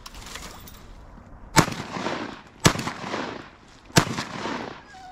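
Three loud shotgun blasts ring out during a wood duck hunt, spaced about a second apart, each a sharp close crack trailing off into open-air echo.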